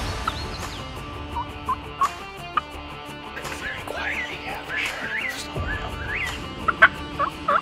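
A wild turkey gobbles in the Pennsylvania woods, several short bursts at a distance over faint outdoor ambience with quiet voices nearby.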